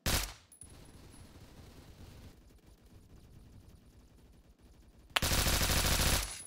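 Dense, continuous rapid gunfire from a shooter video game runs steadily throughout, rising to a louder, harsher burst near the end.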